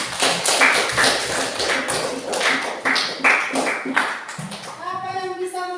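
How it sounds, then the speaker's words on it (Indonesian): A class applauding in a room, brisk scattered claps for several seconds that stop abruptly, followed by a voice speaking. "Beri tepuk tangan untuk kata."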